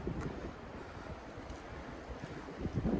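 Steady gusting wind buffets an outdoor microphone trackside beside a Reading & Northern railroad line, a continuous low rumbling roar that swells louder toward the end, with no voices.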